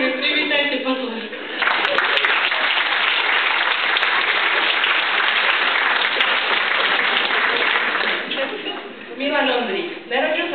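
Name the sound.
applause welcoming a speaker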